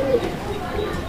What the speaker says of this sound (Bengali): গোবিন্দ যে গোল্লা কবুতরগুলো ওরা ডাকে শেষে ঘুম ঘুম ঘুম ঘুম শব্দটা করবে